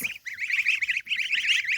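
Several geese honk loudly at close range in a fast, overlapping string of calls with only brief pauses.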